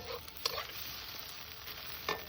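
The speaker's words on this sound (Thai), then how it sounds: "น้องชายกำลังทอดไข่คุณยายจ้ะ" Eggs fry for an omelette, a soft continuous sizzle heard close but quiet, with a couple of brief scraping clicks from a utensil, no voices.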